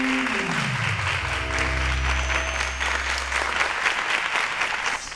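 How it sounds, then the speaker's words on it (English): Audience applause at a televised quiz show fills the room, steady clapping from a crowd with a musical sting rising underneath. "A round of applause to them, please."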